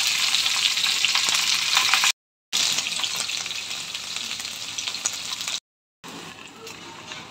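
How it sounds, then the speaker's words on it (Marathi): Paneer shallow frying in hot oil in a pan gives a steady, loud broadband sizzle and crackle, broken by two short silent gaps, with no talking. "तेल गरम झालेलं आहे, पनीर आपण शॅलो फ्राय करून घेऊया।"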